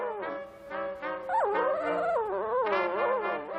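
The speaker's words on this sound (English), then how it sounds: "these one-day-old Labrador cross puppies" High, thin whimpers and squeaky cries from one-day-old Labrador cross puppies, several overlapping wavering whines close by.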